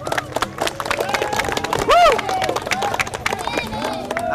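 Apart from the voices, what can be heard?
people clapping hands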